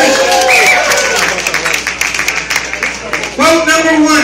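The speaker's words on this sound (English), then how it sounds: "A round of applause for them." Brief burst of audience clapping for sponsors at an amateur fight night, rising under a ringside announcer's voice and settling quickly before he carries on.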